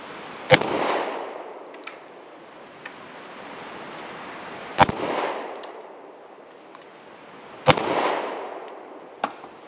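Three sharp, loud pistol shots from an AMT Backup chambered in .45 ACP, spaced several seconds apart, each followed by a rolling echo tail, with a couple of faint clicks between them and no talking.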